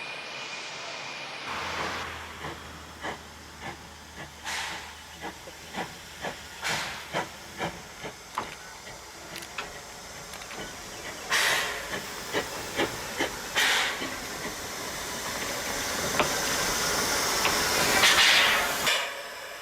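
Loud bursts of steam hiss out repeatedly from a steam locomotive in a shed, sharp puffs and longer blasts layered over a low mechanical rumble, with a sustained hiss building near the end.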